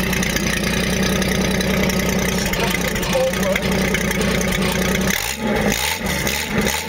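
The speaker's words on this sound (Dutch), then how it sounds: "En zo klinkt dus een FJ40 zonder uitlaat." A Toyota Land Cruiser FJ40 engine idles with no exhaust muffler fitted, a loud, rough, throaty unmuffled rumble that stutters and changes near the end, close by with no talk over it.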